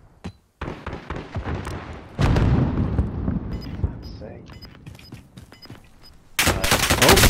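Rapid gunfire and explosions from the video game Call of Duty, loud and sustained, with bursts layered over a heavy rumble and a sharp blast at the end, while players shout over the action.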